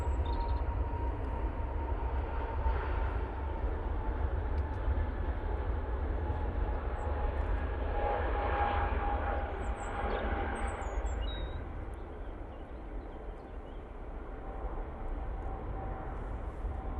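Aer Lingus airliner at Manchester Airport, its jet engines giving a faint, distant rumble with a thin steady whine that slowly fades.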